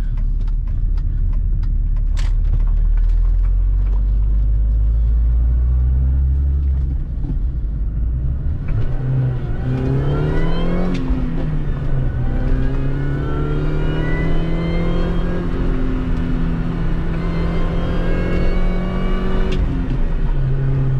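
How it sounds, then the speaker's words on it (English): A supercharged Mini Cooper S R53 engine with a hot air intake rumbles, then revs up with a rising supercharger whine as it accelerates hard uphill, loud and close, building through long pulls with no voices. "to hear the hot air intake that I put on just for the supercharger noises"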